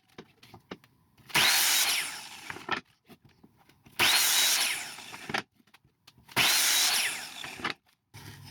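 A power saw cuts triangles of wood in three separate bursts, each a loud, close, high whine lasting a second or so, with quiet handling noises in the gaps between cuts.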